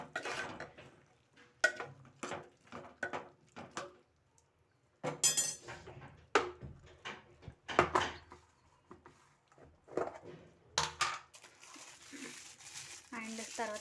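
Cauliflower curry being stirred in a pan, a spoon scraping and clinking against the metal in irregular bursts, with a pause midway and a louder clatter near the end.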